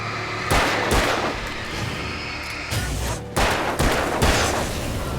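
Rapid bursts of gunfire in the video game Alan Wake, several loud sharp shots in clusters over continuous game background noise.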